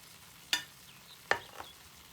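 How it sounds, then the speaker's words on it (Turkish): Roasted bulgur being stirred into sautéing tomatoes in a pan for a vegetable bulgur pilaf: two distinct scraping stirs about a second apart over a faint, quiet background. "Ve kavrulmuş olan bulgurlarımı da katıyorum arkadaşlar."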